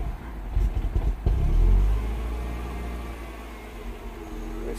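A Mini Cooper S R56 engine running rough with high pressure fuel system faults revs briefly, surges, then settles back to an uneven, low idle.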